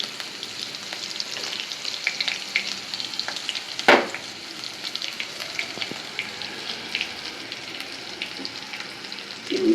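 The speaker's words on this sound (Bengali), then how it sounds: "তেল দিলাম, তেল দিয়ে আদা কুচি, গরম মশলা, চালটা আগে ভিজিয়ে রেখেছিলাম গোবিন্দভোগ চাল, এখন এটা ছেড়ে দিলাম" Soaked Gobindobhog rice fries in hot oil with chopped ginger and garam masala, a steady close sizzle with crackling throughout and a sharp burst of spattering near the middle.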